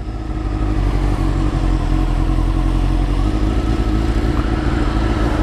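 Honda CBR929 motorcycle engine roaring steadily up close, a loud continuous rumble with rough, throaty texture and slight revving swells throughout.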